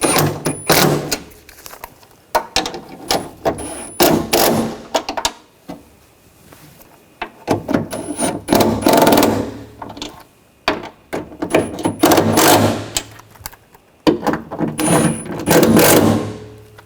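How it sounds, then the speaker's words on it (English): Bolts holding a window motor in a 2000-2006 BMW X5 door are tightened down with a ratchet, which makes repeated bursts of loud, close clicking separated by short pauses. "Now I'll tighten these down."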